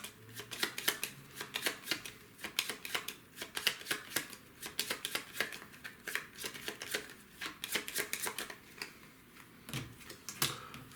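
Playing cards shuffled repeatedly during a Flamme Rouge board game, a long run of crisp riffling flutters close by in a quiet room, with no talking.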